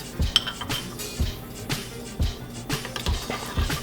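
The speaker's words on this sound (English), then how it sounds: "Now I'm going to give this a little bit of a stir just to get all that sugar and the yeast" Spoon stirring sugar and yeast in a bowl, a quiet series of rhythmic clinks and scrapes against the dish, about a dozen light taps at a steady pace.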